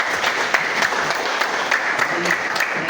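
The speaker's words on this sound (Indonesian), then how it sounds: "Tepuk tangan." An audience at a public information socialization event claps in steady, dense applause that holds at an even level for the full few seconds, close and lively.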